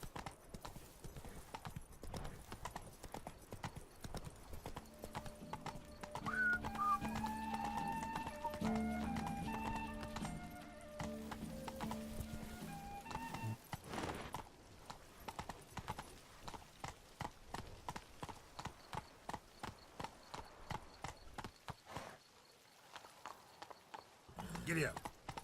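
Geralt's horse Roach trots in The Witcher 3: Blood and Wine, steady rhythmic hoof clip-clops at close range. A horse whinnies partway through, and a brief musical passage plays over the hooves.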